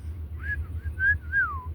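A person whistling a short, clear melodic phrase of a few sliding notes, close and alone over a low steady hum.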